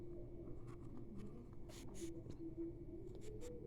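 Quiet scratching of numbers being written into a frequency table, a few short faint strokes with a steady low hum underneath.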